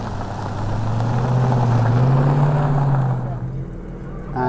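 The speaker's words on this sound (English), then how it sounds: "TVR Camaro." A TVR classic car pulls away at the London to Brighton classic car run, its engine a loud, close, throaty rumble that rises and then eases, with a voice talking over it.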